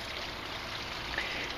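Water drains from aquaponic fish tanks into a clarifier filter at a restaurant in Naples, Florida, a steady, soft trickling stream heard close by.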